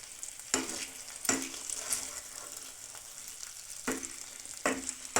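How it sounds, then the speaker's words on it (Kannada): Fish coated in masala frying in a pan over low heat: a steady close sizzle with a few sharper bursts of spitting oil recurring every second or so, and no voices. "ತುಂಬ ಚೆನ್ನಾಗಿ ಫ್ರೈ ಆಗ್ತಾಯಿದೆ."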